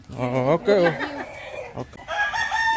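Chickens in a Filipino province farm backyard, near and loud, with rising-and-falling crowing and clucking calls and a brief spoken exchange in between.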